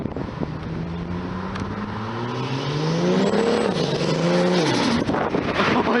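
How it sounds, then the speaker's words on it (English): A car at a JDM and import car meet revs up for skids, its engine note climbing and holding loud, with crowd and ambient noise around it. "This guy's gonna do some skids"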